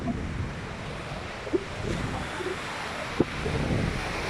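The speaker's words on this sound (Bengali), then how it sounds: "বড় বড় ঢেউ।" Big ocean waves crash onto rocks in a continuous broad roar, mixed with gusty wind noise over the microphone and a couple of brief knocks.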